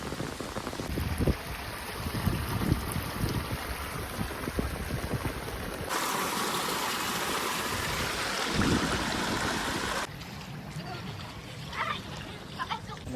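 A dense, steady hiss of heavy rain in Botad village, Gujarat, mixed with rushing water, shifting in tone partway through, with scattered splashes close by.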